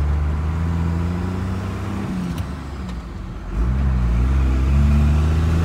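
A pickup truck engine revs and pulls away, a loud low droning tone that dips briefly then climbs again as it accelerates, heard close with no talk.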